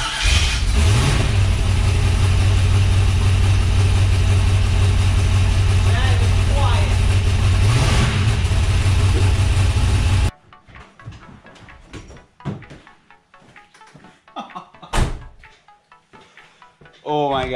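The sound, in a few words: car engine started and idling after boost valve install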